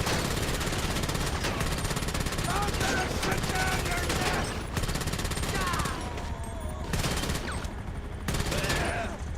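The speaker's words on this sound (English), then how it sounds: "I love this tactical SMG" Tactical SMG gunfire in GTA Online: dense, loud, continuous bursts of rapid shots filling the scene, with brief dips in intensity.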